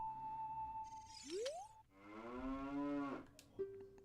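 A cow in The Legend of Zelda: Ocarina of Time gives a long, drawn-out moo with a rising swoop leading into it, clear and alone among soft game tones.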